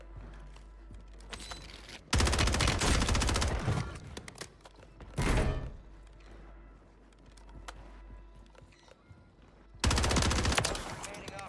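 Gunfire in Warzone 3 on Rebirth Island, with a Bruen assault rifle in play: loud bursts of automatic shots come in three main clusters, separated by quieter stretches with scattered distant pops.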